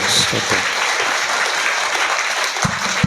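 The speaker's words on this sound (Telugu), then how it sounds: "గట్టిగా చప్పట్లు కొట్టి దేవునికి వందనాలు చెప్దాం." A church congregation at a day-long prayer meeting claps loudly and continuously in praise, a dense, even wash of hand claps that carries on to the end, where a voice briefly cuts in.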